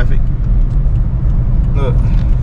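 Steady low road rumble from inside a moving car in traffic, a continuous engine and tyre drone filling the whole moment with no clear breaks.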